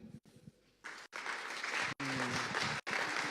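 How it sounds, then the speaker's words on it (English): An audience at a panel discussion on remote working claps in several short bursts separated by brief pauses, the sound swelling from a thin scatter of claps into fuller, louder rounds. "Can you please practice your clapping?"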